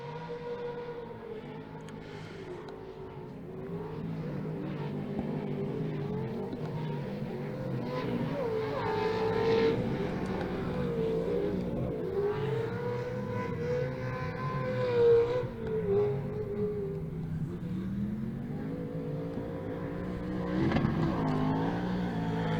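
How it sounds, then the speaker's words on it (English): Pro 2 off-road short course racing trucks circle the Victorville track, their engines droning and revving steadily at a moderate distance, rising and falling as they accelerate through the course, with no talk. "One more time around for our Pro 2 trucks."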